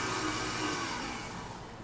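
Stand mixer kneading bread dough for turtle-shaped bread after butter is added, a steady whirring motor hum with a dull churning texture, moderately close and continuous.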